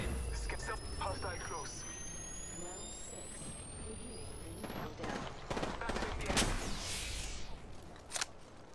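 Rapid gunfire and bursts of fire in a first-person shooter, the shots loud and close over a dense mix of game effects, with a voice talking through the exchange.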